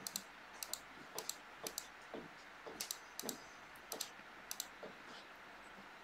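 Computer mouse clicks during drawing work on a math and logic exercise, about fifteen sharp, light clicks at an irregular pace, some in quick pairs, close and isolated over a faint room hiss.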